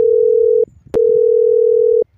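A telephone line gives a steady, loud, close tone in two long pulses split by a short gap and a click as a call is placed again.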